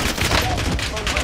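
Gunfire in a multiplayer shooter video game, a rapid burst of shots rattling continuously across a short moment, mixed with game noise and faint player voices.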